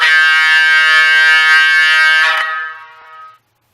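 A Kato Olympian Hiawatha model train sounds its horn, a loud, steady, bright multi-tone blare lasting over two seconds before dropping in pitch and fading out quickly.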